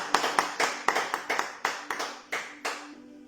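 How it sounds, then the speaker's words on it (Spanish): Clapping during a church sermon, about a dozen sharp, distinct claps in a quick, fairly regular rhythm that slows slightly near the end, close and clear with no voices. "Dele un aplauso al Señor"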